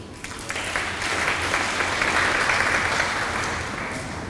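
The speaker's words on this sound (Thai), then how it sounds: "ขอเสียงปรบมือต้อนรับคุณวัสสันธิรพัฒน์พงศ์กรรมการผู้จัดการบริษัทซิสโก้ประเทศไทยและอินโดจีนค่ะ" Steady applause from an audience welcoming the managing director of Cisco Thailand and Indochina at an event about the Thai internet, a dense wash of clapping that swells and holds before easing slightly, with no voices over it.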